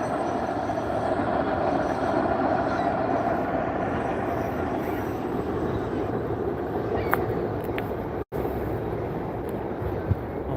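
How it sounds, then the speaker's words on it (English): An RTA commuter train passes through the Flats in Cleveland, giving a steady, loud rumble and roar that holds for the whole stretch, with faint high wheel squeals near the end and no talk. "Yeah, I'm catching a train."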